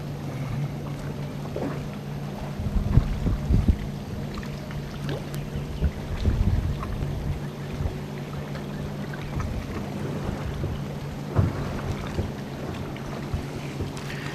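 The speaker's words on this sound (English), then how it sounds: "especially that wind coming up" Wind gusts steadily across an outdoor fishing spot near water, with a continuous buffeting rumble against the microphone and faint scattered splashes and knocks underneath, no voices.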